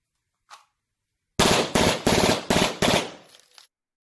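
Glock 18 pistol firing short full-auto bursts, a faint click followed by four rapid, loud, close bursts of sharp gunshots in quick succession, then fading echo.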